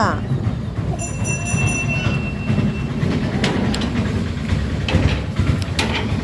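A train rolls past close by with a heavy rumble and rattling wagons, a brief high wheel squeal near the start and sharp clacks further on, while people talk over it.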